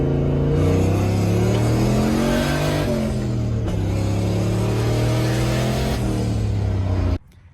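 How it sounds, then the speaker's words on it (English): Turbocharged car with a 4.10 gear ratio revving hard and accelerating, a loud sustained engine note with rising harmonics, brief dips at shifts, cutting off abruptly near the end. "Now you can hear in that video how the car sounded"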